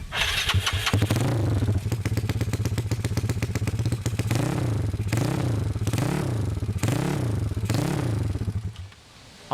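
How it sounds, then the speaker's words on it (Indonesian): A 2011 Yamaha Mio Smile scooter with an aftermarket exhaust starts up and runs nearby, idling with a rough rattly putter, then revved in several short blips before settling and cutting off at the end. "dengerin dulu nih knalpot ini."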